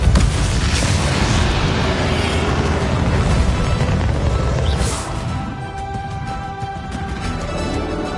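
A Repulsor spell blast in the Hogwarts Legacy video game, a loud booming burst followed by a rumbling wash of noise that fades into a quieter hum.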